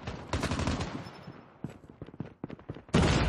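Automatic gunfire in a Call of Duty deathmatch game: rapid bursts of close, sharp shots, a chattering stretch, scattered single cracks, then a loud blast at the end.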